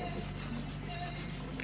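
A lint-free rag rubs in steady, repeated strokes across a textured surface, wiping excess silver metallic paint, soft and close with no talk.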